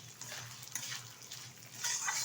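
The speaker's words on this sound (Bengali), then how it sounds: "দিয়ে দিচ্ছি এর মধ্যে মুগ ডাল। মুগ ডালটাও কিন্তু সুন্দরভাবে ভেজে নেব তেলের সাথে।" Raisins and moong dal frying in hot oil for khichuri, a soft close sizzle with light stirring scrapes and faint utensil clinks, no voices.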